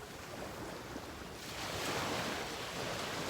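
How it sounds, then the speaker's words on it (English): Ocean waves washing onto a beach, a steady soft broadband surf wash that swells slightly midway, fairly distant and low in level, with light wind. "the waves are beautiful today"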